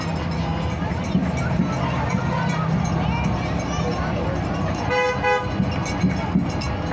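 Car horns honk in a celebratory 5th grade honk-out, with a clear horn blast near the middle over steady road and crowd noise. People talk throughout.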